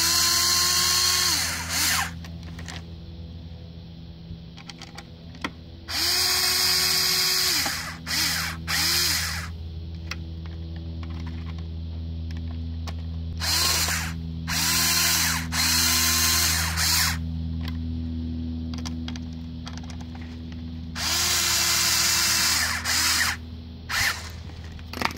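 Power drill driving screws into a plastic speaker mount in the front door of a Subaru Outback, several whirring bursts of a few seconds each, separated by quieter pauses with faint clicks and handling sounds.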